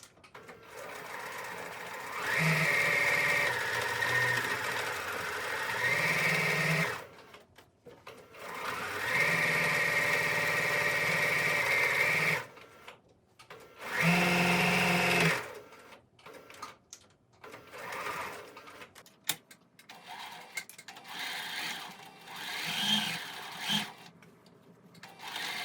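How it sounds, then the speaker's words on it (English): A sewing machine stitching a shirt seam runs in several loud, steady bursts of whirring several seconds long, separated by pauses and followed by quieter intermittent fabric handling and clicks. "I'm basically going to just sew the line"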